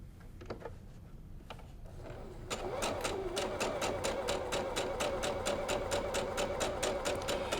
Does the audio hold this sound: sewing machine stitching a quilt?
yes